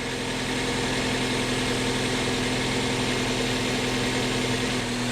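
Car engine idling steadily during a charging system test, a close, even hum and low rumble that holds unchanged throughout with no talking.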